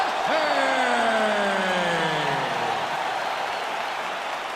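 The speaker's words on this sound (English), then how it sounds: "you can hear the crowd response with everything that this man does" A packed arena crowd at a UFC middleweight championship fight roars and cheers in a sustained wash of noise, while a commentator's voice carries over it at the start.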